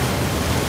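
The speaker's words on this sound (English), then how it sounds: "Waterfall. Waterfall!" A waterfall in the video game Uncharted 4 roars as a steady, dense wash of rushing water that fills the whole short moment at constant loudness.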